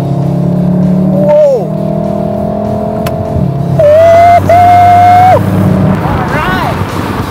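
A VW Golf R with 280 bhp and four-wheel drive, set to its race driving profile, revs loudly up close. The engine tone climbs and settles in a few rising sweeps over a low idle rumble.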